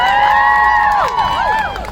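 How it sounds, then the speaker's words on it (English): Crowd in Times Square cheering and applauding, a dense continuous roar with shouts and whistles rising over it, close and loud throughout. "So I want to give yourselves a round of applause."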